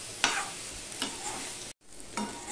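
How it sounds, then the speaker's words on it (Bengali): Banana flower sautéed and stirred in a pan, giving a soft steady sizzle with a few scraping stirs of the spoon. The sound is quiet and close, with a short gap near the end and no talking. "3 থেকে 4 মিনিট আমি কষিয়ে নেব। কেন কষিয়ে নেব? মোচাটার মধ্যে যেটুখানি জল আছে সেইটুখানি আমি শুকিয়ে নেব"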